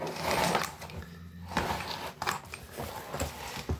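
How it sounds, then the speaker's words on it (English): A speedy stitcher hand sewing awl working through material, giving scattered clicks, scrapes and thread-pulling sounds in short bursts, close and moderately loud, with no talking. "This is called a speedy stitcher."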